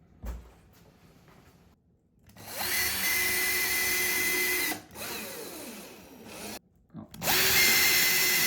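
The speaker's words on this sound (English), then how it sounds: "then we're gonna turn it around and we're gonna put a few screws in." A power drill drives screws into wood in a bathroom being tiled, with long loud whirring runs broken by brief pauses and a short burst between, close up with no talking.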